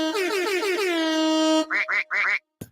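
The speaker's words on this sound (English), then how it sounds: "with all that high quality quacking and air horning" A long sustained air horn blast with stacked tones gives way to three quick duck quacks and a short final thump, loud and up close with no talking.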